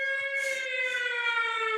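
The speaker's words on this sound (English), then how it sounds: "Too much weather siren." A weather warning siren wails in a steady, sustained tone with strong harmonics, close and loud, holding without a break and with no talking over it.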